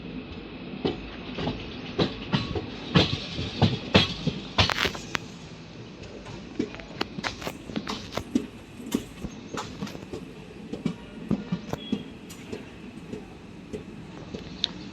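A train on the Porbandar to Ahmedabad line rumbles along with irregular clanks and knocks of wheels and couplings as an engine reverses on the track, moderately near and steady throughout.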